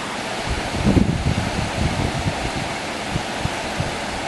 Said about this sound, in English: Just looking at some sideways rain.